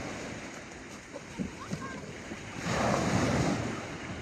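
Sea waves wash in at Pantai Puteri beach in Melaka, a steady broadband surf roar with wind noise that swells louder in the second half, under a few brief voices.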